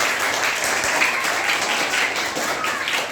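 An audience applauds together in a dense, steady wash of clapping that carries on evenly at a moderate level for a few seconds.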